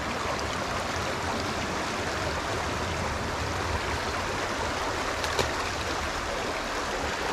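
Fast water rushes steadily through a stocked trout stream, a dense, even roar heard close and alone with no break in the flow.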